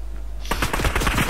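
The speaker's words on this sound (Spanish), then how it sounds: "Estoy oyendo tiros muy cerca." Close, rapid automatic gunfire erupts in Fortnite after a brief buzzing lead-in, a loud continuous burst of shots running to the end.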